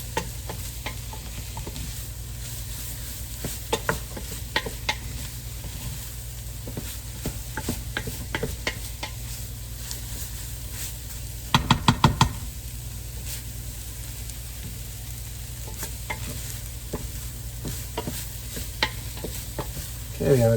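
Meat, peppers and onions coated in spices for game day chili sizzle steadily in a pan, with frequent scraping stirs and a brief flurry of louder clatter near the middle.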